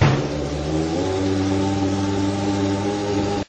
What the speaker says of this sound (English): In the background, as Marcy is driving her car.